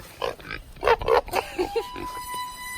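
A pig at a rescue farm gives a run of short, close grunts and oinks in uneven bursts, loud at first and tapering off, with little else around it.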